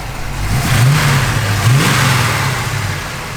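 A 1966 Chevrolet Nova SS engine revs up twice in quick succession, the low throttle rising and falling, then settles back to a steady rumble, close by and loud.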